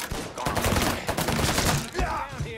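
Gunfire in the Mafia 3 video game, a dense burst of rapid repeated shots with short gaps, loud and close, mixed with game noise.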